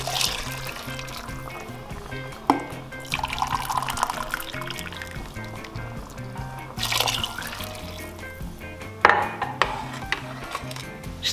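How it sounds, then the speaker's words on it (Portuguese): Boiling water poured into a pot of rice for mushroom rice, an uneven splashing trickle with a few louder surges and clinks, heard alone without talk. "A água eu vou usar já a água a ferver, que é para ser mais rápido."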